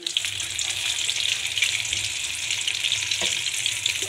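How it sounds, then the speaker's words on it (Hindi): Flour-coated chicken sizzles in hot ghee on low flame, a steady close crackle of frying that runs throughout with no voices. "अभी हम इसको घी के अंदर डालेंगे"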